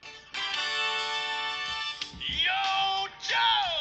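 A phone ringtone played into a microphone gives a bright, loud electronic melody with sustained tones that shift into quicker, warbling phrases, close and clear, with no talk over it.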